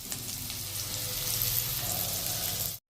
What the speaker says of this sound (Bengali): আলুগুলোকে এবার আমি ভেজে নিচ্ছি।